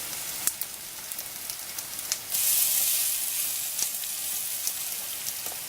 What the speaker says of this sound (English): the pan is nice and hot now, and we're going to put in the potato rostis